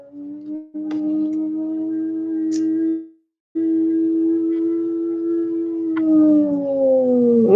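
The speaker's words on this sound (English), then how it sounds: "That ambulance, that siren." An ambulance siren wails in long, steady sustained tones, loud and fairly close, breaking off briefly before resuming and falling in pitch as it passes, with no talking.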